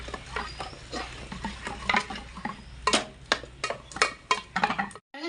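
Cooked tomatoes being mashed with a wooden masher in a pot, a run of close, irregular soft thumps and squelchy pats with brief pauses, ending abruptly.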